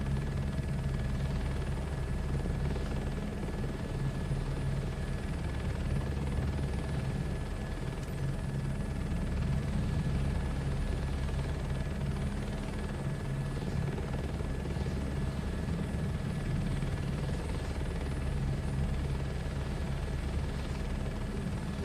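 A helicopter in Microsoft Flight Simulator 2024 drones steadily with a deep, continuous rotor and engine rumble and a thin high whine, holding an even loudness throughout without voices.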